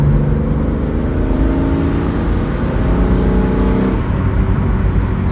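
A BMW E46 M3 engine at operating temperature pulls in fourth gear from 3,000 to 4,000 RPM, a steady loud droning hum heard from inside the car that rises gently in pitch and eases off briefly near the end.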